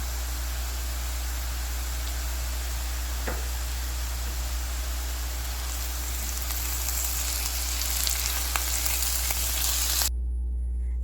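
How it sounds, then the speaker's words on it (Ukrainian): Continuous crackling sizzle of vegetables frying in a pan with salt, pepper and paprika, steady and close, with a few small pops and a clatter near the end before it cuts off. "Тепер сюди додаю сіль, перець та паприку і просмажу ще 2-3 хвилини"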